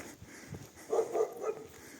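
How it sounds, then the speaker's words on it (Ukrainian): A dog barks a few times in quick succession at moderate distance, fairly faint against a quiet outdoor background on a snowy street in Truskavets, Ukraine. "собаки супроводжують."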